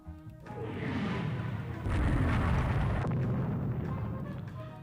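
A torpedo strikes a warship in the naval strategy game Rule The Waves 3, a loud sustained explosive rumble with a heavy burst of noise midway, dense and continuous rather than a single crack.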